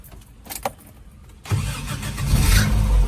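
A carbureted Suzuki Jimny engine cranks briefly and catches at once, then settles into a loud, rough, close idle that builds slightly.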